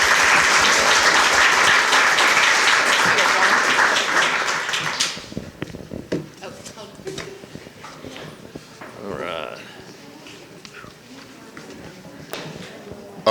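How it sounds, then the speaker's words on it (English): Audience applause after a heritage lecture about a forgotten cemetery in Frankfort: loud, full clapping for about five seconds, then it quickly thins out into scattered claps, room noise and a voice speaking. "let's give Dr. Pollack a round of applause"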